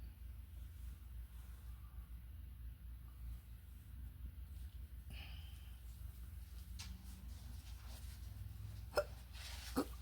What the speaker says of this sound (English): Oh, goody, hiccups.